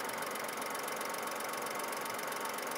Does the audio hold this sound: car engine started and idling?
yes